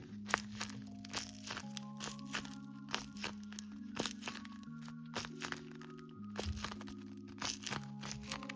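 A handmade squishy toy shaped like a dumpling is squeezed up close, giving repeated crisp crunches and crackles in an irregular rhythm over soft background music, with no talking.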